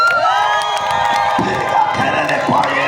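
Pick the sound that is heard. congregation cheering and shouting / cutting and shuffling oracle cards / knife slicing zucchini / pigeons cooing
congregation cheering and shouting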